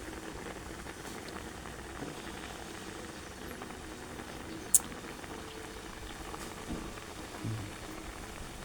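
Pot of small fish and vegetables with basil leaves boiling, a steady dense bubbling and sputtering close by, with one sharp tick partway through and no talk.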